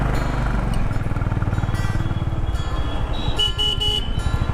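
Dense road traffic under a flyover in Rajasthan, India, with rumbling engines and motorbikes, a car horn tooting several times near the end, loud and continuous.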